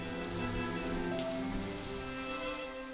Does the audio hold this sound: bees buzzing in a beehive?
no